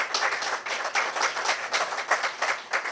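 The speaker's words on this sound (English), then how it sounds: "So Joe Macaluso, I want to give you all a big round of applause at SHA" Applause from a modest crowd at a schoolyard renovation groundbreaking rises and falls in uneven bursts for a few seconds, with no voices over it.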